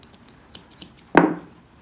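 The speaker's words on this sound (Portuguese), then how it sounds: "Vou cortar esse fio." A single crisp scissors snip cutting crochet yarn, preceded by a few faint light ticks and handling clicks, close and alone with no voices.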